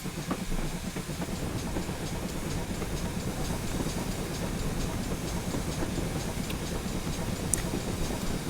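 GWR 28xx steam locomotive hauling a mineral train on the Barry Railway in a simulator game, with a steady rumbling roll and rhythmic clickety-clack of wagons under faint hiss, continuous and close.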